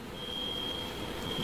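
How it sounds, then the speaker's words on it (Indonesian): A steady, high electronic alarm tone sounds without a break inside a church during a sermon, fairly faint above a low, noisy room hum. "Ini bunyi alarm atau apa ya?"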